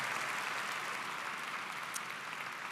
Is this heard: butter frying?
no